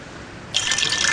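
Water poured into a water purifier that heats it automatically, a bright splashing pour starting abruptly about halfway through after near silence, steady and close.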